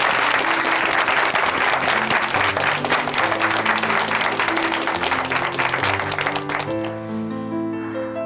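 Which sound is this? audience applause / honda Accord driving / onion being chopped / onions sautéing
audience applause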